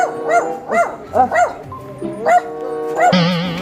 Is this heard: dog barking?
yes